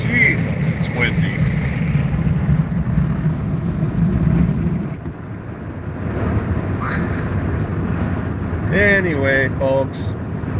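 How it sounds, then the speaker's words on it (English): Strong wind roars and buffets the microphone in a constant low rumble beside a whitecapped river, with brief voices and other faint sounds near the end. "Jesus, it's windy."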